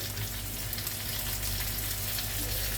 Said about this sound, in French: Voilà, on va laisser griller le poulet comme ça.